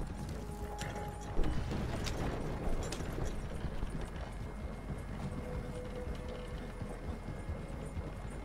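Horse hooves clip-clop steadily in Red Dead Redemption Online, with a dense galloping rhythm over a constant busy game soundscape and no voices.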